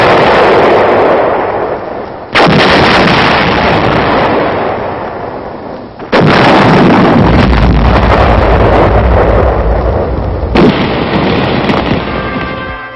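Heavy booming blasts and rumbling explosions of gunfire and artillery fire in battle in Paris, 1944: three big thuds spaced apart, each followed by long roaring rumble, loud and wind-battered.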